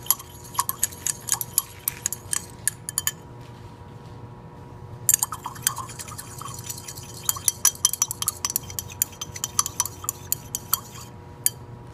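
A utensil stirring a solution in a glass container, with rapid, bright clinks and taps against the glass in irregular bursts over a low steady hum, a pause midway before the clinking resumes.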